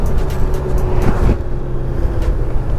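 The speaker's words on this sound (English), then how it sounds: "I'm gonna check out that downshifting again because I am coming up here to a stop" A 2020 Honda Goldwing motorcycle downshifts while slowing to a stop, heard as a steady, loud rumble of engine and rushing wind with a slight change in tone partway through.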